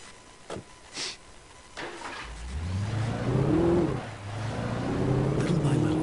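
A car in the game Alan Wake starts up and drives off, the engine rising in pitch and holding a steady moderate drone after a few brief knocks and shuffles at the start.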